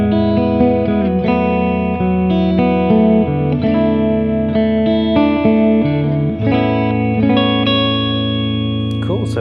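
PRS electric guitar with both humbucker pickups giving a thick, full tone and some overdrive, playing a continuous run of chords and riffs with a touch of reverb.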